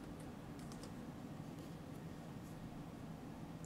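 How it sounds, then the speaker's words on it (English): Keys tapped on a computer keyboard while entering an administrator password during a macOS Monterey upgrade, a quiet, steady patter of light clicks over a constant hiss of background noise. "type in our administrative password"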